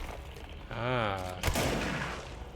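Gunfire in Control breaks out against the mold in a short burst of shots near the middle, mixed with a brief whooshing tonal game effect and a low background rumble.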